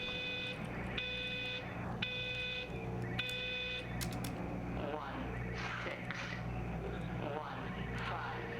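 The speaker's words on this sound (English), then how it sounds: "That was 4 beeps." Electronic beeps from the video game Everybody's Gone to the Rapture: four evenly spaced, sharp tonal beeps at a steady rhythm over a low ambient hum, followed by softer environmental game sounds.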